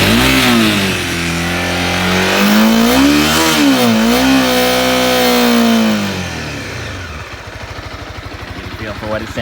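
Honda CBR300R motorcycle engine revved up and down several times close by, pitch rising and falling, then settling into a rough, throbbing idle near the end.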